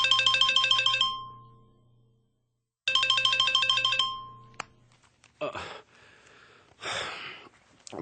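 A telephone rings in a Korean radio drama, giving two loud electronic ring bursts with a pause between them, followed by soft rustling, a sharp click and breathy sighs as someone stirs.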